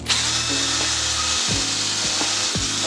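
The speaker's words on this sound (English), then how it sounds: "Drill a nice straight up and down hole." A loud, close power drill whines continuously through wood, its motor pitch dropping and surging several times as the bit bites and grinds.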